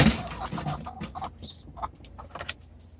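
Backyard hens about five months old, just beginning to lay, cluck softly in an Arizona yard, with short scattered calls over a low outdoor background.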